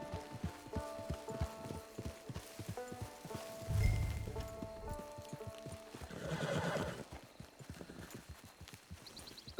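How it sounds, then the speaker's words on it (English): A horse in the Western video game Red Dead Online walks with steady, crisp clip-clop hoofbeats, joined midway by a brief whinny and light rustling, with no talk. "Get your horse."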